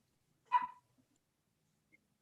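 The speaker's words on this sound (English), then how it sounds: "you can hear my dogs barking" A pet dog gives a single short bark at a distance, followed by near silence with a couple of faint ticks.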